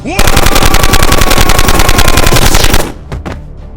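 A loud, rapid machine-gun burst sound effect from a Warhammer 40K Orks versus Adeptus Mechanicus battle fires in even, fast repetition for almost three seconds, then cuts off, followed by a couple of trailing shots.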